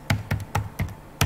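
Five crisp, evenly spaced keystrokes on a computer keyboard, close and clear with no voices.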